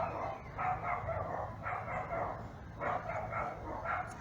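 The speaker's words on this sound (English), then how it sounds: "My neighbor's dogs." Dogs bark in a few short bursts at a distance, the yaps coming in clusters with brief pauses between them.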